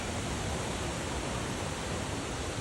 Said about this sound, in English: You can still hear that stream.